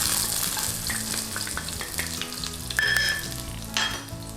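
Garlic sizzling in a little oil in a stir-fry wok, a steady crackling hiss with scraping stirs and a few clanks, close and alone without talk.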